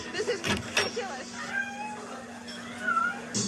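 A person imitates a cat with a few drawn-out, rising and falling meows during a heated argument in a restaurant, over a steady background hum.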